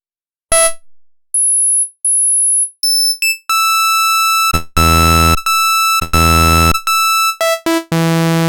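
A Massive X software synthesizer plays a saw-like waveform in loud, buzzy bursts mixed with thin pure beeps and stepped tones, with no voice over it.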